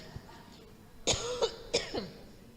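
A woman preacher coughs and clears her throat at a church talk, giving two or three short, close, sharp coughs with brief gaps between them.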